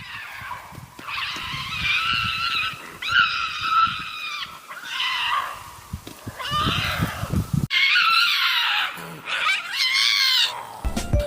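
A wild cat in mating season lets out loud, shrill, wavering screams in repeated bursts with short gaps, harsh and close, with no speech.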